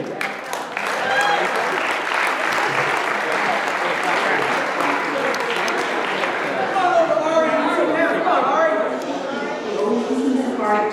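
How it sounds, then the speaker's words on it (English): Steady, dense applause from an audience at a Sephardic food and music festival, continuing for about eleven seconds, with voices and whoops rising over the clapping in the second half. "Big round of applause to Alan and the whole Bobo family."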